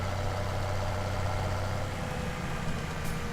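Tractor engine in Farming Simulator 17 running steadily as it drives along a field edge, a continuous low droning rumble with a constant pitch and no breaks, close and alone with no talking.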